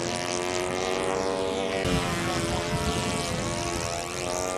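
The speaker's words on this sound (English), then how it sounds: "Sweet little plane." A small propeller airplane flying close by, a loud steady droning buzz with a rich harmonic hum that holds constant throughout, no voices.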